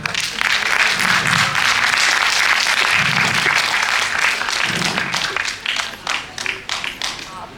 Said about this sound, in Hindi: सबसे ज़्यादा हौसला बढ़ता है जब दर्शक तालियों से स्वागत करते हैं।